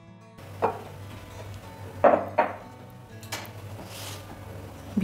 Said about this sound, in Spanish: Ahora vamos a cortar la torta porque también quiero que vean lo fácil que es de cortar.